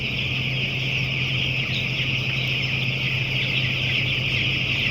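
Eight-day-old poultry chicks in a brooding shed, a steady chorus of many high-pitched chirps and peeps blending into a continuous drone, with a low constant machine hum underneath.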